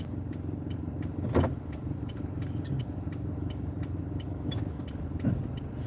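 Car engines idle and rumble in a busy parking lot in winter, a steady low drone with a couple of vehicles passing close, heard from inside a car.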